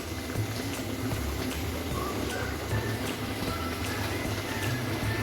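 Two packets of finely chopped button mushrooms cooking in melted butter with masala, a steady close bubbling and sizzling hiss throughout, without talk.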